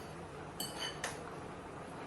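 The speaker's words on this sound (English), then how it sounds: "I'll get a fork in here and just gently break up my diced avocado." A metal fork clinks twice against a bowl while breaking up diced avocado mixed with herbs and olive oil, two faint, brief taps over a quiet hiss.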